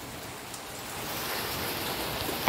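Steady rain falls on a countryside farm in Brazil, near a newly laid tile floor, a dense even hiss of drops with a few louder splats, continuous and unbroken with no voices.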